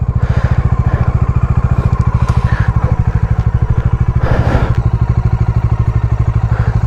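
A Bajaj Dominar 400 motorcycle engine thumps at a fast, even single-cylinder pulse up close while ridden, loud and steady, with a brief rattle or clatter partway through.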